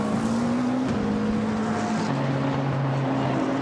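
A Nissan race car at the Blancpain Endurance Series round at Monza, 2013, roars steadily past with a loud, sustained engine drone and a falling pitch as it goes by, alone without talk.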